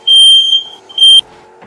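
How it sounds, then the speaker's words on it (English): A fire alarm beeps in two loud piercing high-pitched bursts, the first long and the second shorter, close by and with no one talking over it. "It's a fire alarm, bro"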